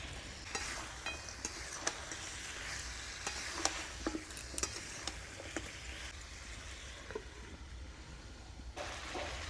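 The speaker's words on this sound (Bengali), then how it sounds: "মাংসটাকে ঢাকা দিয়ে কিছুক্ষণ কষিয়ে নেব" Quiet, steady sizzling of country chicken cooking in a covered pan with capsicum, tomato and green chillies, with occasional sharp pops and crackles and a few scraping stirs.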